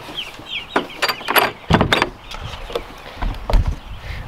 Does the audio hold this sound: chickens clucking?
yes